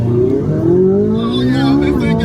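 Standard Ferrari 458 Italia accelerating hard, its engine note climbing steadily through the revs, loud and close from inside the cabin with the windows down. People speak over it.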